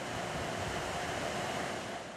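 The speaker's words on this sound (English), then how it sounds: "Leslie, there is a lot of water rushing through this part of the Potomac River tonight" River water rushing over Great Falls on the Potomac at night, a loud, steady, broadband roar with no pauses or voices.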